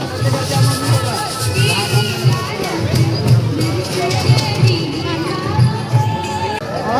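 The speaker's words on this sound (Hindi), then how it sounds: "अभी भी यहाँ बहुत ज़्यादा भीड़ हो रही है।" A packed Chhath festival crowd mills about in a busy open space, making a continuous nearby hubbub of many overlapping voices with a soft recurring low thump throughout.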